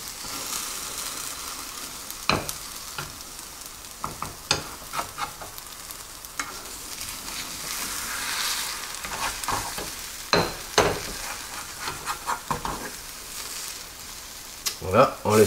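A spinach omelette fries in a pan with a soft, steady sizzle, while a spatula or utensil scrapes and taps against the pan now and then and a voice speaks quietly at times.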